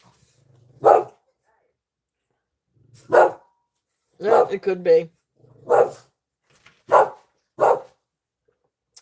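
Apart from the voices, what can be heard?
dogs barking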